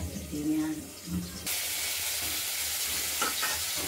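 Rohu fish pieces fry in hot oil with a loud, continuous crackling sizzle that takes over after a short muffled moment at the start, close and steady.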